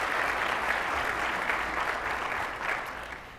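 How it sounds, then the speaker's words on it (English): Sustained applause from an audience at a regional education summit, a dense, even wash of many hands clapping that holds steady for the whole stretch with no voices over it. "A warm round of applause, please, for Dr. David C. Stuckwich"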